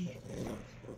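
A dog growls low and rumbling at close range indoors during a vacation rental stay, a short throaty snarl with a faint voice in the background.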